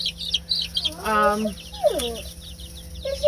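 Buff Brahma and English Sussex hens cluck nearby in a farmyard, two short melodic calls over quieter chirping birds and a low steady hum.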